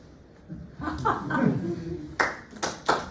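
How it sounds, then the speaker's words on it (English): A few people clap in short scattered bursts after some murmuring and soft chuckles, the claps sharp and fairly close. "You don't need to clap, you can clap if you want."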